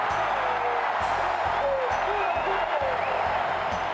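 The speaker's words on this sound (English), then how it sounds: "Boy, listen to this crowd. A great throng in Memorial Stadium, and they're excited." Big crowd cheering and roaring in Memorial Stadium after a Kansas Jayhawks touchdown at a college football game, a steady wide wash of noise with a commentator talking over it.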